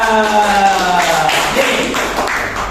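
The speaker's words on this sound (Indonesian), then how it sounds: "Oke, tepuk tangan" Students in an Indonesian Islamic lesson break into applause, a scattered patter of clapping that rises as a drawn-out voiced tone fades away, then continues fairly close and steady.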